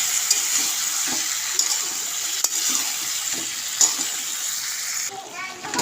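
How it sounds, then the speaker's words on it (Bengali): Taro and prawns are stir-fried with a splash of water in a pan, making a continuous close sizzle and watery hiss broken by the occasional scrape of a stirring spoon. "অল্প অল্প জল দিয়ে কষিয়ে নিচ্ছি।"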